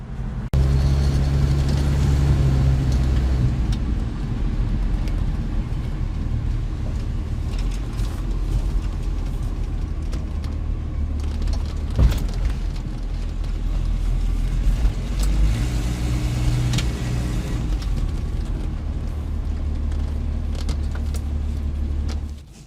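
A 1967 Ford Mustang coupe drives along with a steady, close engine drone and road rumble, the low note swelling at the start and again midway as it accelerates, no talking over it.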